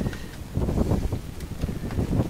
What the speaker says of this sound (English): The wind's rushing out.